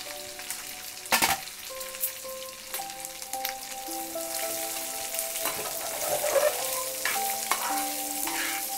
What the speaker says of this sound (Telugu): కొంచెం ఇవి వేగినాక ఈ ఎండుమిర్చి అందులోకి వేసేసుకుందాం